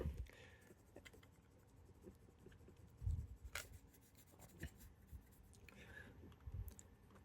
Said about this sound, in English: it's okay if the pencil's not actually marking on the paper, because this is like a waxy paper